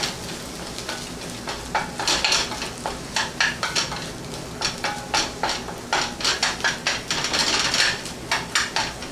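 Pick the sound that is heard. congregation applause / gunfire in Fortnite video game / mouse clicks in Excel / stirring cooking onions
stirring cooking onions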